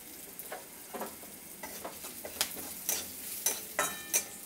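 A spoon stirs potato chop filling with garam masala in a hot pan, quiet scraping strokes over a soft sizzle with a few sharper clinks toward the end, close by and with no voices.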